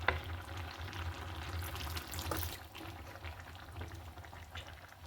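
Coconut milk curry with ash gourd, Angamaly style, bubbling as it boils in a pot after the second milk is added, a soft close simmering burble with faint liquid stirs.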